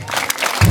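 Brief burst of applause at a Rwandan gospel church service, clapping crowd heard close and loud, swelling near the end with a low rumble.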